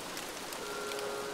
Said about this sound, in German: weil es gerade regnet